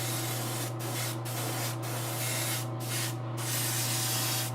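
Airbrush spraying paint on a Wonder Woman statue at around 35 PSI, a close, steady hiss broken by several brief pauses as the trigger is released, with a low compressor hum underneath.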